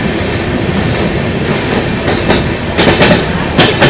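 A passenger train crosses the Farakka bridge with a loud, continuous rumble heard from inside the carriage, and sharp rhythmic clacks of the wheels over rail joints grow more frequent toward the end.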